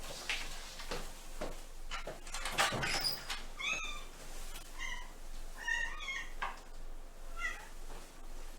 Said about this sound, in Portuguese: eu vou aproveitar e dar um jeito aqui na minha gatinha para ela não atrapalhar o barulho na live